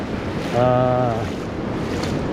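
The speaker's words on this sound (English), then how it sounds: "There's crashing waves just like right here." Loud ocean surf rolls and crashes steadily along an Oregon beach by a sandbar, with heavy wind buffeting the microphone and a brief tonal whine rising briefly over the wash.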